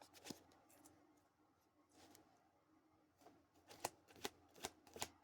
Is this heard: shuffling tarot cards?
yes